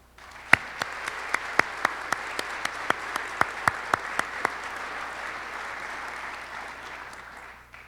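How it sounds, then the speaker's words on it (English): Applause fills the hall at a physician assistant program white coat ceremony at Ohio Dominican University, dense crowd clapping punctuated by a run of loud, evenly spaced close claps that stop midway while the broader applause carries on and fades. "give you all a round of applause for these accomplishments"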